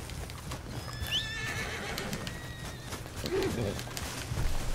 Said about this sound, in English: Where's my horse at?